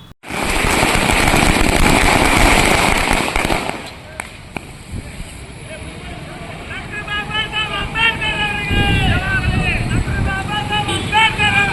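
Firecrackers set off at a street victory celebration at a city circle, a loud dense crackling barrage for about four seconds, then a noisy crowd with people talking and shouting.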